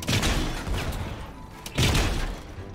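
Two loud bursts of rapid gunfire from a weapon in Fortnite, each a dense rattling volley, separated by a brief lull.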